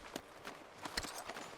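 Hooves of a Morgan horse in Red Dead Redemption clop softly on the ground, a few irregular faint hoofbeats close by with no talk over them.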